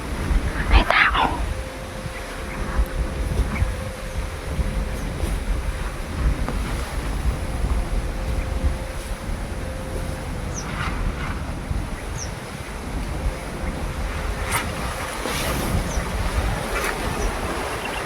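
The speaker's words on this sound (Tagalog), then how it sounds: "Lakas ng hangin." Strong wind buffets the microphone in a low, continuous roar while sea waves wash in the background, with a few brief faint sounds breaking through.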